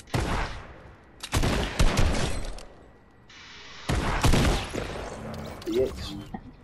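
Gunfire in Fortnite comes as two loud clusters of shots with a quieter lull between them, and faint voices are heard underneath.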